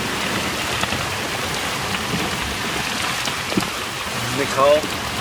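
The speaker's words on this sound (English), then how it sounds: "It's really raining now." Heavy rain drums on a sailing boat at sea near Tangalooma, a constant loud hiss of drops hitting the deck close by, with a brief voice near the end.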